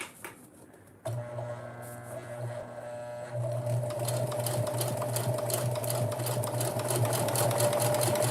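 A home sewing machine stitching a curved seam while learning to sew, starting with a click, then a steady close mechanical whir and rapid needle chatter that speeds up and keeps running, alone without talk.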